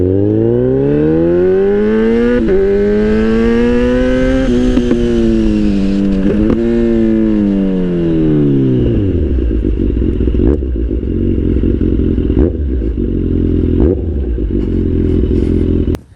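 A Kawasaki Z800 motorcycle engine revs up and down in a few loud, close swells while being ridden. It then settles into a lower, uneven idle with scattered clicks and clatter before cutting off abruptly as it is parked.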